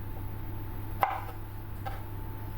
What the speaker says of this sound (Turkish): 4 adet kornişon turşum var. Onları güzelce doğrayacağım.